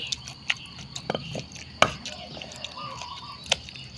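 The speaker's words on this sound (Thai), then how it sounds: "แล้วเราก็ ค่อย ๆบดบดบดบดนะคะ บดลงไปเลย" Canned fish mashed in a bowl for a canned fish and egg dish, heard as scattered soft taps and scrapes from the utensil with a few sharper knocks, close by and fairly quiet, with no talking.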